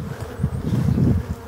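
Black bees buzz around active hives in Brittany during an ivy and phacelia nectar flow, a dense, close, continuous hum that swells slightly toward the end.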